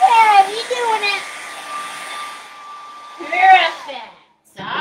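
A hair dryer blows steadily while drying acrylic paint on a winter black bear canvas, a constant airy whir close by, with someone talking and exclaiming over it.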